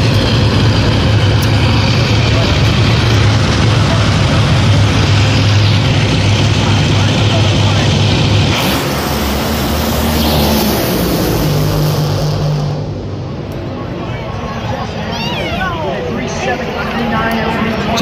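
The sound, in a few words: Top Fuel drag racing cars racing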